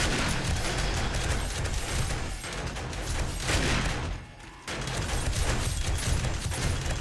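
Rapid, dense gunfire from the survival game 7 Days to Die, with shots fired from the hip and a turret also firing, sustained and loud almost throughout with a brief lull near the end.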